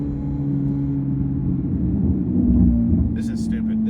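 A Corvette ZR1X with its stock factory exhaust produces a low, steady engine drone with a constant humming tone, heard from inside the car throughout.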